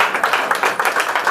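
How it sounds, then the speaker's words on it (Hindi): A crowd at a spiritual talk claps together in a brisk, loud burst of dense, overlapping hand claps that lasts about a second. "ताली बजाएं तो एक साथ सारे जोर से बजाओ"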